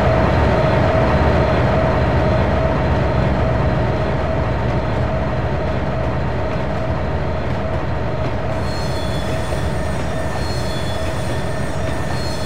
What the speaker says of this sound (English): Will and Sean arrived with a grain train.